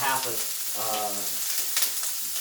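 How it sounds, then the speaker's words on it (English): Shrimp with garlic and honey sizzles steadily in a hot pan, a close, constant frying hiss with faint tonal hum and brief stirring, no talk. "Let this saute for a second."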